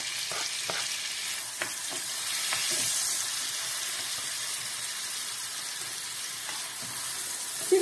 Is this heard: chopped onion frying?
yes